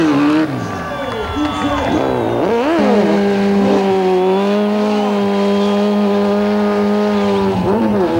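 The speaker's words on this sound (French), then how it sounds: "Voilà, un peu de freinage." A car brakes hard at a GTI tuning meet, tires squealing in a long rising-and-falling screech that holds steady for several seconds, loud and close over engine noise and crowd murmur.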